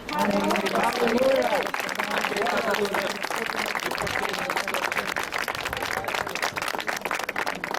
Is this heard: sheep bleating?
no